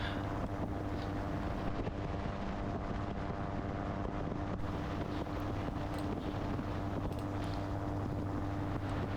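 A gyroplane engine drones steadily in flight along a coastline above a beach near Llanbedr, a continuous close-up roar with heavy wind buffeting across the microphone throughout and no pauses.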